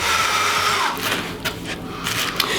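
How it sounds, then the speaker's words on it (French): A drill bores a pilot hole into wood with a steel bit, a steady whirring motor drone running throughout at close range, with a few sharper bursts as the bit bites. "Je fais un pré-trou pour éviter de craquer le bois."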